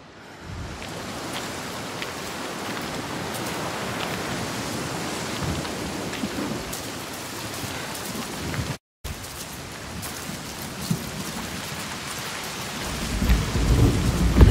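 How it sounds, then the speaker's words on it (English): Heavy rain pours steadily in the video game Senua's Saga: Hellblade 2, with rumbling thunder throughout and a deeper roll building at the end, nearly uninterrupted apart from one brief dropout. "The rain never stops."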